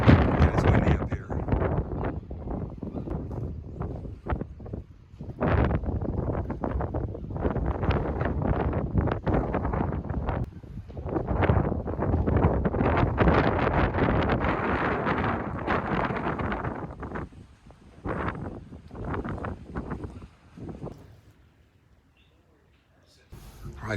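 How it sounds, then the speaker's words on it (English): Strong wind on an exposed hilltop near Beddgelert, Wales, buffeting the microphone in loud gusty roars that rise and fall over about twenty seconds before easing near the end. "it's windy up here"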